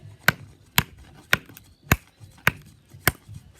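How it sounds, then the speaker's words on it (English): An axe chops a log to length for boards, Viking-age plank making by hand, with six sharp, evenly spaced cracking blows ringing out close and loud with nothing else around them. "We are chopping it off at the desired length."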